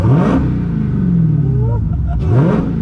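A car engine fitted with a Pedal Commander throttle controller revs up in sharp rising sweeps, falls away, then revs again, loud and close, with a voice briefly heard.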